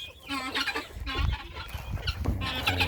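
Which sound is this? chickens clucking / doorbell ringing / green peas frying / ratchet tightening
chickens clucking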